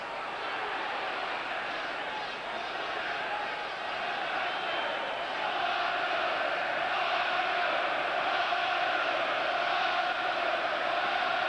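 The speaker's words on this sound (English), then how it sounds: "the crowd roaring now for Ben" A boxing crowd roars in a big arena during a fight, a dense, sustained wall of cheering that swells louder toward the end, with a commentator talking over it.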